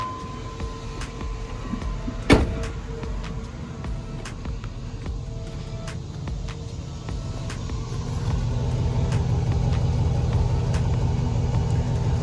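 An abandoned 1998 GMC 2500 pickup's V8 runs at a steady, fairly quiet idle, with one sharp knock early on and the rumble growing slightly louder toward the end.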